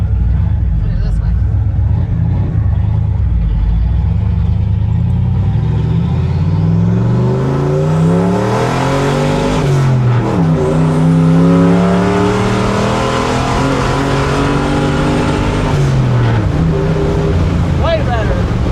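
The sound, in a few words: truck engine revving without exhaust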